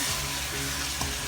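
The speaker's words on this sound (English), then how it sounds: "I'm gonna stir." Garlic frying on high heat crackles and sizzles loudly and close up in a dense continuous hiss, with a brief scrape of stirring partway through.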